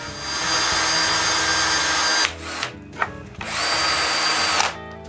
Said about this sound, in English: I drill pilot holes for the eye screws on the support and the sign.